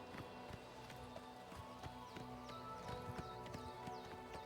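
A horse gallops in Oblivion Remastered, the video game, with steady rhythmic hoof clip-clops repeating at a quick pace over a constant layer of game ambience, close and moderately loud.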